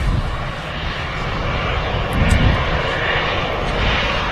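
Airliner in special livery lining up on runway 23L at Manchester Airport, a steady broad engine roar heard from outside the airfield, continuous and moderately loud with a slight swell midway.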